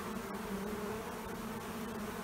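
Bees in a new hive box, a colony living in a possum box, make a dense, steady buzzing hum that stays close and even throughout, with no speech.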